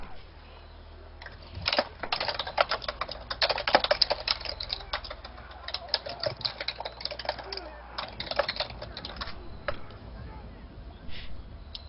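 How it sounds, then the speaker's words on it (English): Rapid keyboard typing on a computer during an online game chat, steady clicking bursts that swell and fade, close and fairly loud, with low background hum and no clear speech. "That might be my Rambo typing that you're hearing"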